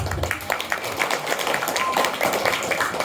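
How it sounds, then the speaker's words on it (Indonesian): An audience at an Islamic religious lecture claps together in a steady patter of many hands, at moderate loudness, lasting a few seconds. "Kita kasih tepuk tangan dulu Pak."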